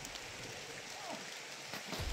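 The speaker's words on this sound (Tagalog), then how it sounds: "Umuulan na mga tol." Steady, faint hiss of rain falling on surfaces, an even wash of patter with no other clear sounds.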